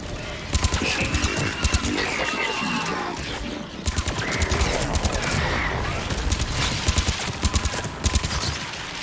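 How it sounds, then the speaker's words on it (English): Missiles fire in rapid bursts during Mass Effect 3 combat, loud dense rattling blasts and mechanical thumps repeating steadily for several seconds with a whirring hum underneath. "Missiles are hot. Missiles away."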